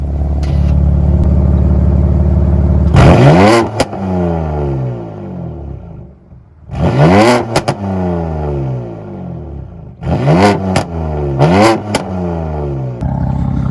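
BMW M3/M4/M2 F-Series with an MHD/BM3 burble tune, revved hard three times, each rev rising and falling, ending in a sharp exhaust pop or crackle, loud and close with no talking.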